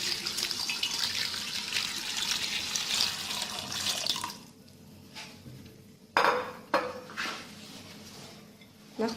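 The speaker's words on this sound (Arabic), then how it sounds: "نكب الماء دافي هو الاول في الكوكوط" Warm water is poured into a cocotte pot, a steady close splashing stream for several seconds, then quieter with a few sharp clanks of metal cookware.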